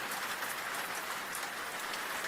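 Steady rain falls continuously, a dense even hiss of drops on surfaces with no pauses and no voices.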